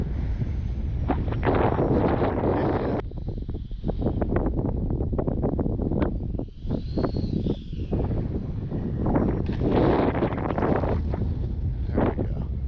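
Wind buffets a head-mounted camera microphone while an RC L-39 Albatros jet is flown outdoors, a constant loud rumble with gusty surges throughout.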